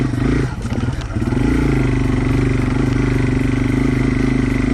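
A Yamaha TW200 trail motorcycle idles and chugs over rocks, its engine dipping and stuttering briefly before settling into a loud, throbbing low rumble close by.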